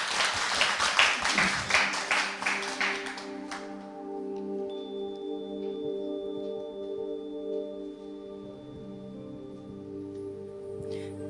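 Audience applause greets a poet about to read her own poem aloud at a Korean poetry talk event; loud dense clapping for the first four seconds, then it stops and sustained tonal music continues underneath.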